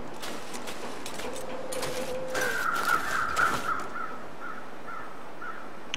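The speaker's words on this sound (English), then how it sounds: "I hear crows." Several crow caws in a video game ring out in the middle, harsh and fairly clear, over a steady wash of ambient background noise.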